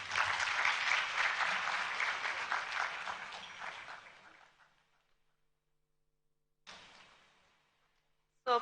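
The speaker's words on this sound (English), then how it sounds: "let's keep applauding as they walk to their seats" A hall audience applauds the panelists at a public health lecture in Africa, steady and full for about four seconds before fading out. A short burst of clapping and a sharp knock follow.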